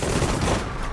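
A tight cluster of rapid gunfire from Sudden Strike 4 in a Battle of Guadalcanal scenario, a loud overlapping volley of shots lasting about a second.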